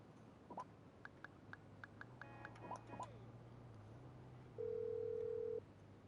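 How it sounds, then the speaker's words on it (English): A phone call in the GTA 5 video game: sparse dialing beeps and short tones over a low hum, then a steady, louder electronic tone that holds for about a second. "see if there's any general phone calls that Franklin can make with Jimmy"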